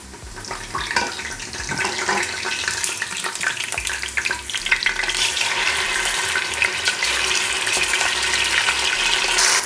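Tomato puree frying in hot oil for Nigerian gizzard dodo gives a loud, continuous sizzle and spatter. Faint stirring shows through, and the sound builds slightly over nearly ten seconds without speech.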